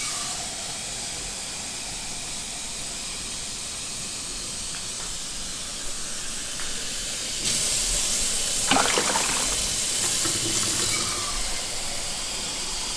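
Cold tap water runs into an ear wax removal machine during cleaning, a steady broadband hiss that swells and grows louder partway through, with no voices.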